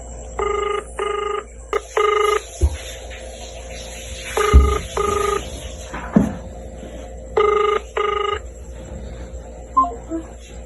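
An unanswered phone call rings out in repeated paired bursts of electronic ringing, loud and close, with short silent gaps between each pair.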